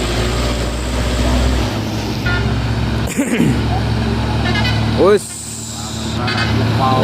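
An orange truck rumbles by on a road, its heavy engine drone loud and near. A horn-like toot sounds partway through, then the noise shifts as the vehicle passes and traffic continues.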